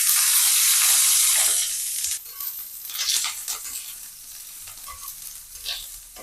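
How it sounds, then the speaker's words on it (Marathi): Chopped small onions frying in oil in a pan for a spicy Vidarbha-style brinjal curry, a loud steady sizzle at first that eases into softer crackling broken by scraping stirs. "आता याच्यावर थोडस तेल टाकून घेते मी कांद्यावर।"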